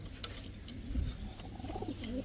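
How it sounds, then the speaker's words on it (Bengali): Army pigeons coo in soft, low, repeated calls close by, with a faint chirp or two and a steady background hum, and no talking. "এই হচ্ছে আর্মি কবুতর, 2 জোড়ার একটা আর্মি প্যাকেজ দিব"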